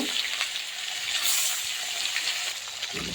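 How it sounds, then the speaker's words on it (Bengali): Fish pieces fry in hot oil in a kadai, a continuous bright hiss and crackle of sizzling heard close up and fairly steady, with no speech. "মাছগুলো সব একটা করে দিয়ে মাছগুলোকে ভেজে নেব"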